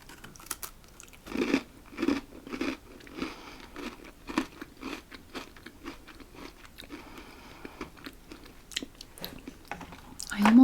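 Homemade biscuits being bitten and crunched close to the mic in an ASMR-style tasting, with repeated crisp bites and steady chewing in an irregular rhythm, plus a louder crunch near the end.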